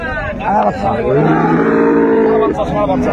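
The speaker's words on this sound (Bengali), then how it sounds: "ষাঁড় বাচ্চা" A young bull calf gives one long, loud moo close by at a cattle market in Raniganj, Dinajpur, with faint crowd chatter in the background.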